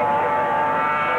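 Racing sidecar motorcycles, including a ground effects Yamaha 700, on the opening lap of the 1983 Australian Sidecar Grand Prix at Mount Panorama, Bathurst, with a loud, continuous high-pitched engine whine filling the short stretch.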